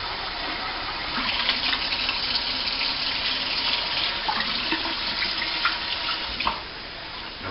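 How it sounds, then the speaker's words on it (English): Water from a tap pours steadily into a pot of rice, a continuous gushing splash for several seconds before it eases off near the end. "Going to put a little bit more water in."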